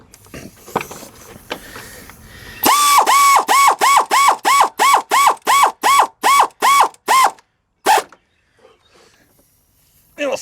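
A ratchet snugs down a thermostat housing bolt on a Chevy, giving about a dozen loud, evenly spaced clicking strokes up close, then one last stroke after a short pause, with quiet shuffling before the work starts.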